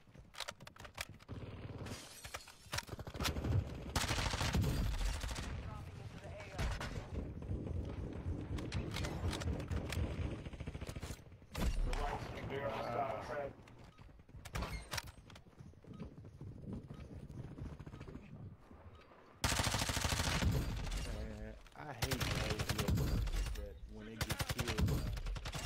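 Gunfire in a video game played on a TV, with loud, dense bursts of rapid shots repeating in stretches and brief pauses between them, close and harsh, with occasional voices underneath.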